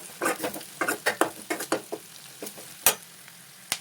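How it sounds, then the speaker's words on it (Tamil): Onions sautéing in a pan with turmeric powder stirred in, giving soft frying sizzle under a run of quick scraping stirs at a steady rhythm, close by with no talk. "வெங்காயம் வந்து வதங்கிடுச்சு. இப்போ மஞ்சள் தூள் ஆட் பண்ணலாம்."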